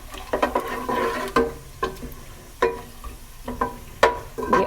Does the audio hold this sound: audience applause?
no